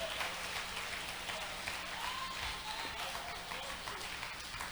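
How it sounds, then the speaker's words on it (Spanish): A church congregation gives a steady round of applause to the King during a sermon, with a faint hum beneath. The clapping is continuous and moderately loud, mixed with crowd noise. "Dele fuerte ese aplauso al Rey, aleluya."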